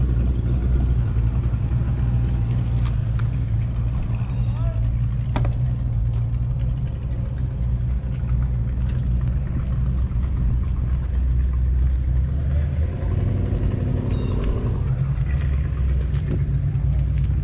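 A six-cylinder car engine rumbles at a Cars & Coffee show, a loud, close, steady low drone with faint crowd and mechanical sounds in the background, without speech.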